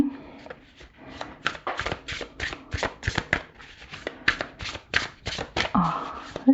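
A Sasuraibito tarot deck being shuffled by hand, with a steady run of quick papery riffles and soft card slaps, close and moderately loud, with no talking.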